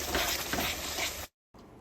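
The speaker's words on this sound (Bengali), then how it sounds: "এখন আমি এর মধ্যে জিরে গুঁড়ো, ধনে গুঁড়ো, লঙ্কার গুঁড়ো, হলুদ গুঁড়ো, সামান্য একটু জল দিয়ে মশলাটা কষিয়ে নেব।" Cumin, coriander, chili and turmeric powder sizzle and fry with a splash of water in a pan, a steady loud hiss with stirring scrapes that cuts out briefly, then resumes more quietly.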